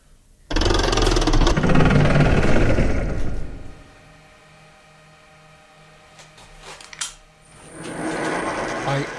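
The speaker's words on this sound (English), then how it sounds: "I have been milling it smaller and straight" A milling machine cuts down a piece of metal stock for a parting blade holder, giving a loud, harsh grinding roar for a few seconds. It drops to a quieter mechanical hum, then the cutting swells again near the end.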